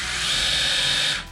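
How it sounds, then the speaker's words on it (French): Electric motor of a Traxxas TRX-4 RC crawler running slowly, a short, quiet, steady high-pitched whir held close up for about a second before cutting off. "Le moteur très silencieux."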